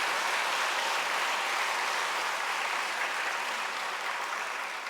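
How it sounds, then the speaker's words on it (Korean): A church congregation applauds to welcome a newly arrived parish pastor during a Sunday worship service, a steady, dense wash of clapping that stays full and even throughout, with no talking over it. "박수로 목사님 환영하겠습니다."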